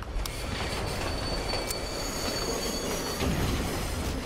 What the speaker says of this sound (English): Okay, that's a train.